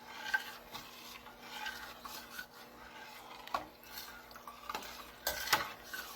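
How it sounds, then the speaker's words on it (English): Homemade broccoli cheddar soup stirred in a pot, a utensil scraping and clinking in irregular strokes with a faint sizzle, quiet and close, ending with a few sharper knocks, no talking. "I'm just going to continue to stir this."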